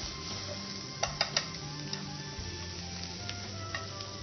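Crab filling stir-frying in a pan for crab spring rolls, a steady close sizzle with a few sharp clinks of a utensil against the pan.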